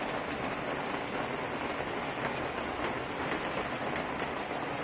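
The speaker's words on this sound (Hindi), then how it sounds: "बारिश आ रही है।" Heavy rain falls in Hyderabad and blows in far enough to wet the inside, making a constant soft hiss of water on surfaces with faint patter in the background.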